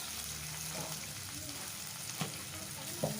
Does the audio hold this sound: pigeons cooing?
no